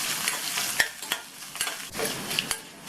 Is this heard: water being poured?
no